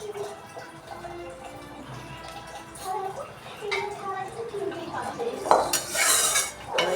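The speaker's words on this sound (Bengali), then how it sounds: "কড়াইও আছে, বের করে মেজে নিই।" A blackened wok (kadai) being scrubbed by hand, with scraping and clattering of metal pots and utensils plus splashes of water, growing louder toward the end; scattered clinks and rubs.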